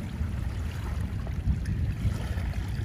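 Waves break and wash onto the shore at Dolomite Beach on Manila Bay, a close, continuous low rumbling surge with no voices over it.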